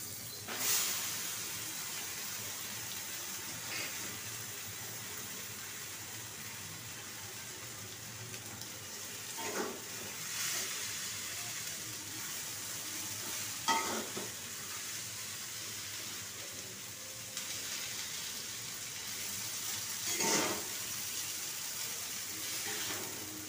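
Chowmein with potato and onion being stirred in a hot pan, a constant soft hiss and sizzle with a few scraping strokes of the spatula, close but quiet, with no talking.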